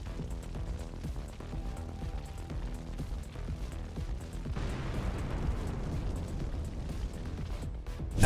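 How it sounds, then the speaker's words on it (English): Artillery explosions strike Russian tanks on a battlefield as a continuous rumbling roar with repeated crackling bursts, growing denser about halfway through and ending with a louder thump, without speech. "Ukrainian artillery hit them very hard."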